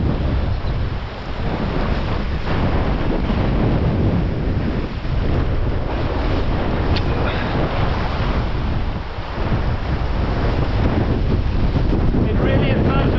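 Strong steady wind buffets the microphone on a tropical island while fishing from a boat, a continuous loud roar with surf and water noise beneath, broad and unbroken throughout.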